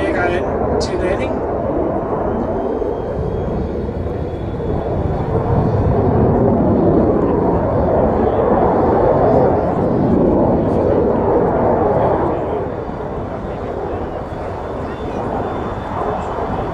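A JAS 39 Gripen fighter jet comes in to land at the Roskilde airshow, a loud, sustained engine roar that swells and then drops off near the end, with commentary spoken over it.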